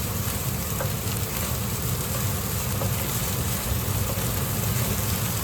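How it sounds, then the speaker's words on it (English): Rice stir-fried in a wok gives a steady, loud sizzle and crackle throughout, with scattered soft scraping from stirring and no talk. "Stir fried rice is almost ready"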